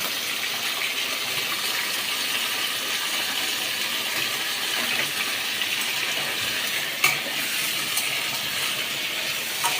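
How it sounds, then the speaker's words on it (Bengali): Potatoes for aloo posto fry and get stirred in hot oil, a steady close hiss of sizzling with a few sharp clicks of the spoon against the pan, no talking. "এবার এটাকে খুব ভালো করে লাল লাল করে ভেজে নেব।"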